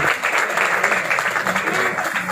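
A church congregation at a Christmas programme applauds the moderator with steady, dense clapping that fills the room evenly and stays loud throughout, with no voices over it.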